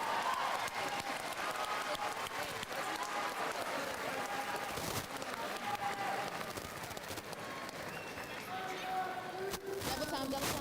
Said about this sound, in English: Cheer him on as he runs